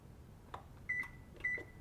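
Two short electronic beeps sound from an oven control panel as the temperature is set to 485 for baking sourdough bread, each tone crisp and close, about half a second apart, with soft handling clicks before them.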